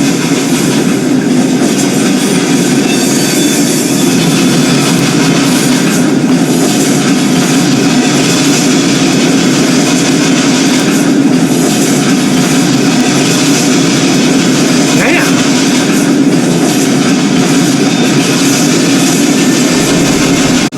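A loud, continuous rumble of a train in the video game Murdered: Soul Suspect rolls on without letup, with a steady rattling drone and no voices.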